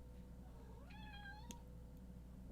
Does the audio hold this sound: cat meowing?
yes